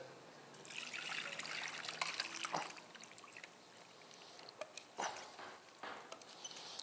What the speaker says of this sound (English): the whole thing is going to get dumped into my casserole dish